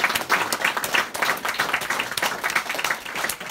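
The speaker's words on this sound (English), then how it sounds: "So a nice round of applause for them first" Wedding reception guests clap for the hotel staff, a lively round of many hands with uneven bursts across the room, fairly close and continuous.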